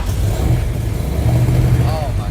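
A Ford 351 Windsor stroker bored and stroked to 408 cubic inches, making over 550 horsepower, rumbles loudly and steadily close by with a deep, throaty low-end drone throughout.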